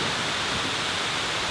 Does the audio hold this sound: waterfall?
yes